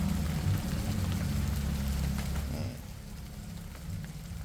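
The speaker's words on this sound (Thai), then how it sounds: "เสียงนี่คือยังฝนตก" Continuous hiss of rain falling outdoors, fairly steady with a low rumble underneath that eases off partway through; no one speaks.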